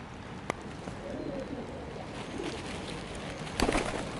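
Wood pigeon cooing softly outdoors in wet weather, faint low calls under steady ambient hiss, with a sharp click early on and a louder burst of noise near the end.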